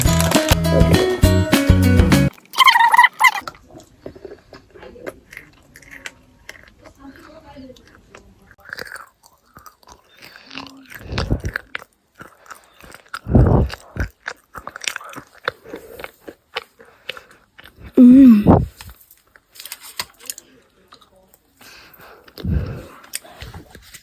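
Peanut chocolate bitten and chewed close to the microphone, with sharp crunchy bites and wet chewing in irregular bursts between quiet stretches, opening with a loud rustle or clatter.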